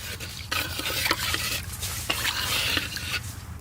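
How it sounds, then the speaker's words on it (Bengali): A pot of potatoes boiling with salt and turmeric gets a gentle stir, with close, repeated scraping and clinking strokes over a steady bubbling bed of sound. "আমরা সিদ্ধ করার ভিতরে একটু লবণ দিয়ে দেবো, একটু হলুদ দিয়ে দেবো, সুন্দর করে আলতো হাতে একটু লেড়ে দেবো।"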